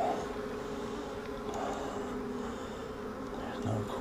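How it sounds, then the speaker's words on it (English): Honey bees swarm over the frames of an open beehive, giving a dense, steady buzzing hum up close that holds throughout, with occasional louder passes of single bees near the microphone. "Wow, look at all the bees."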